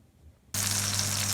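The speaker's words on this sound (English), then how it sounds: "Here it is sizzling away." Slow roast pork sizzling in a hot oven pan, a loud steady hiss of crackling fat that starts abruptly after a quiet moment and carries on evenly without talk.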